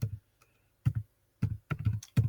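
Someone types on a computer keyboard in short bursts of close, clicky keystrokes. Two brief pauses break up the rhythm, and no one speaks.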